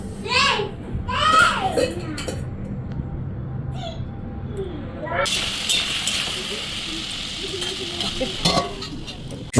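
Aloo posto, potatoes with poppy seed paste, is stirred and fried in a pan. Voices talk at first, then a loud, close sizzle with brisk stirring takes over and continues steadily.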